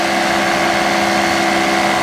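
Steady, loud drone of a Bailey engine running at full power on a Dragonfly ultralight aircraft, a constant near hum with no break and no voices.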